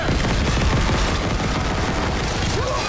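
Rapid gunfire in the horror shooter Dead Space Remake, loud and continuous with dense repeated shots close up.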